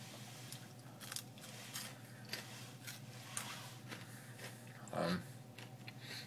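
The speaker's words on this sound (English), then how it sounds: "Now I'm eating peanut butter toast." Peanut butter toast is eaten close up, with faint soft bites and chewing and one louder crunchy bite near the end, all quiet in a hushed room.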